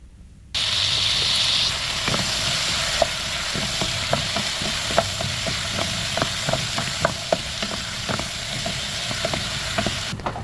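Potatoes fry in a pan for a Kenyan home-cooked meal, a continuous loud sizzle with scattered sharp pops and spatula scrapes.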